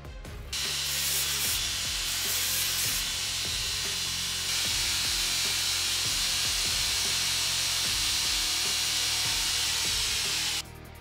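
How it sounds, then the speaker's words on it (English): J-flex belt grinder rounding over a knife handle, a loud continuous abrasive hiss and whir that runs steadily for about ten seconds with rhythmic dips in pitch as the handle is worked against the belt. "Then kick over to a J-flex belt to round everything over and make it nice and comfortable."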